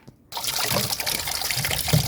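Water runs from a tap in a backyard and is collected for a Jamaican pork soup, starting abruptly after a brief silence and then trickling steadily, close up, with no talk.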